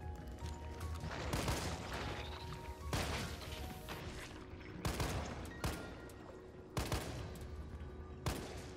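Gunfire in a zombie video game set in an underground lab, loud heavy blasts repeating every second or so over a constant rumbling game backdrop.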